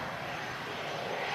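Airplane engines run at Manchester Airport with a loud, steady jet roar that holds throughout the short stretch without letup.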